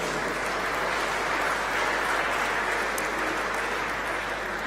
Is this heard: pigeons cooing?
no